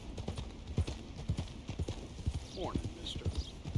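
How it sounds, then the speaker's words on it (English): Horse hooves clip-clop steadily at a walking pace in the open world of Red Dead Redemption 2, a rider hauling a dead animal passing nearby, with faint game ambience and a brief whinny-like sweep. "Thought that was a horse without a rider, but it's a guy hauling a dead animal."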